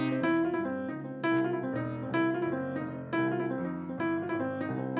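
Solo jazz piano repeats a short rhythmic figure over and over like a mantra, bright chords and low notes returning in a steady loop, close and clear with no voices.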